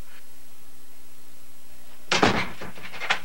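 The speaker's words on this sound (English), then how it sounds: "go inside and lock the door" A door shuts and locks in a children's stranger-safety cartoon: after a quiet stretch comes one close, solid thud, then a few sharp latch clicks.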